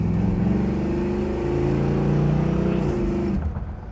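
A 1964 Ford Galaxie lightweight race car engine revs up close, a deep rumbling V8-style note that climbs in pitch and holds, then drops away as the throttle closes near the end, with no talking.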